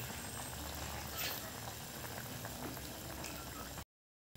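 A pot of freshly caught crab and shellfish simmers in coconut milk, bubbling at a steady, close rolling boil until the sound cuts to brief silence just before the end.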